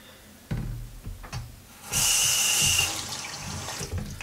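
Tap water runs over a wave brush being rinsed at a sink, a steady hiss that swells for about a second in the middle, with soft handling knocks and clatter around it.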